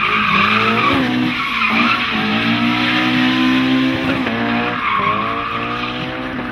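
Drift car sliding through a turn at the Drift Challenge in Osijek, with loud continuous tire squeal over a high-revving engine whose pitch rises and falls as it slides, close and sustained.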